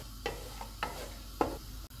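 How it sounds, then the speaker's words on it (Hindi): Whole spices fry in hot oil for vegetable biryani, with a quiet, steady sizzle broken by three spaced scrapes of a spoon stirring the pan. "ऑयल गर्म हो गया, इसमें साबुत मसाला डालेंगे। इसको 30 सेकंड तक फ्राई करेंगे।"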